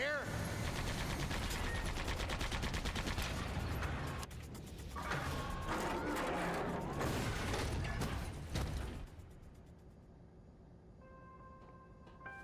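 Rapid bursts of gunfire from the SandLand video game, loud and dense for about nine seconds among mechanical clatter and game effects, then dropping off to quieter background tones.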